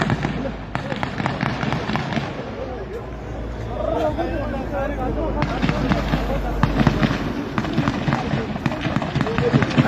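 Repeated gunshots ring out in an exchange between police and local people near Hagen, sharp cracks scattered across the scene over crowd noise and shouting voices.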